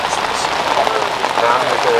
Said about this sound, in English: If you didn't have pouring rain.